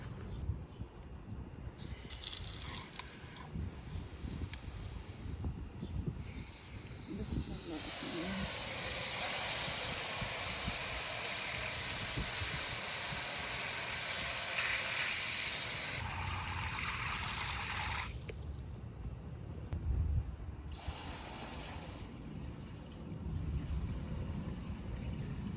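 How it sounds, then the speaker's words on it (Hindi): A steady rushing hiss of water pouring into a bird feeding container outdoors, building louder in the middle and easing off, with faint background noise around it. "अच्छा जी, अब इसमें भरेंगे पानी।"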